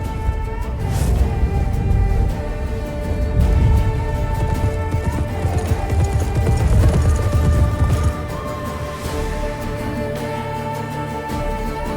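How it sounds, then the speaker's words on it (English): Horse hooves clip-clopping in The Witcher video game, a steady trotting rhythm under game music that drops back near the end. "Ooh, a horse."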